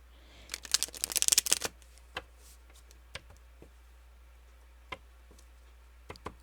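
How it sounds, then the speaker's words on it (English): Tarot cards riffle and slap in a quick flurry at close range, followed by a few sparse, sharp card snaps and taps spaced out in a quiet room. "let me go ahead and get these other cards out"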